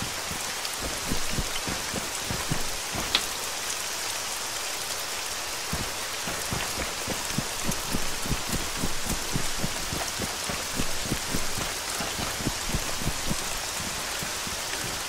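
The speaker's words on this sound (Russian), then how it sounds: "Еще дождь, блин." Steady rain in the game Arma 3, a dense close patter of drops falling continuously and evenly throughout, with no voices.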